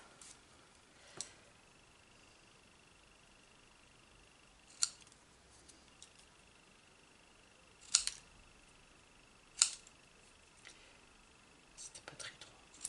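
Scissors cut paper for a scrapbook album, giving a few sharp, quiet snips spaced out over several seconds against near silence, with soft whispered talk in between.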